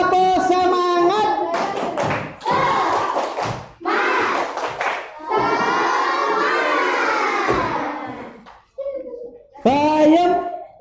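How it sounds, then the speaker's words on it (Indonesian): Schoolchildren in an elementary classroom clap a rhythmic spirit clap in short bursts of taps and claps, with a teacher's voice and children's voices in between. "Tepuk semangat."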